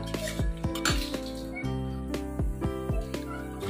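A spoon scrapes and clinks against a metal pan as banana flower curry is transferred into a dish, with a quick series of sharp metallic taps over a faint steady background tone.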